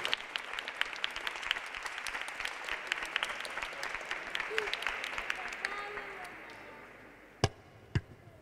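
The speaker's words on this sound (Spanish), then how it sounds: "Aplauso." Applause from a crowd at a trophy ceremony for a chess tournament in a sports hall, a dense patter of clapping that fades out, followed by a couple of sharp, isolated claps near the end.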